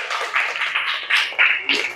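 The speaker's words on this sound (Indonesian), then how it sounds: "Beri tepuk tangan untuk kelompok blubuk" A small classroom audience claps for a group, with a brief patter of hand claps that comes in a few uneven surges over two seconds, close and fairly light.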